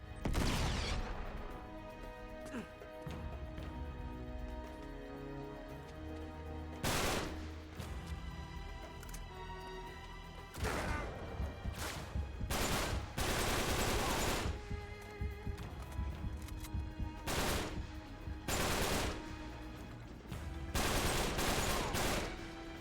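Uncharted 3 combat, with repeated bursts of gunfire and heavy booming blasts from a grenade, loud and close, in clusters separated by brief lulls over a steady game background.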